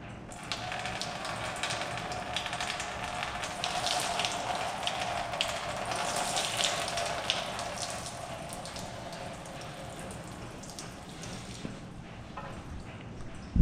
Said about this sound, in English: It's a lot of rusty water.